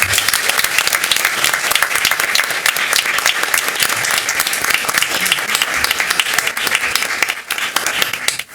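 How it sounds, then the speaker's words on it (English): An audience at a school district board meeting gives a round of applause to honored students, loud and dense clapping from many hands that carries on steadily before easing off near the end. "Let's give a round of applause to our Goose Creek Betas."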